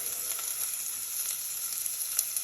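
Onions sizzle in a pan as the first step of a low-calorie fried rice, a bright, even hiss with small scattered crackles, close and without talk.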